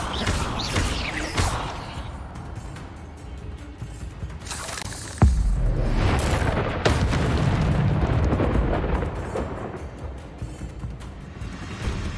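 Incendio fire spell cast in Hogwarts Legacy: a loud burst and roaring, crackling rush of flame, with a sharp boom midway followed by a sustained fiery rumble and shattering debris.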